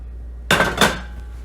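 A lemon pound cake drops out of its baking pan with a soft thud and a brief rattle of the pan. Two quick knocks land close together, then ring out faintly into quiet.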